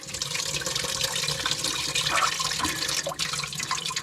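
Water drains steadily out of the plumbing of a flooded off-grid cabin, a continuous close gurgling and trickling rush with no talk over it.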